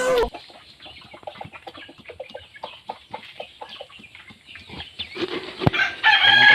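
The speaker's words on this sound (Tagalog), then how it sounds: "Ang pinakapangit kong manok" A rooster crows and clucks in choppy, hoarse bursts nearby, growing louder toward the end.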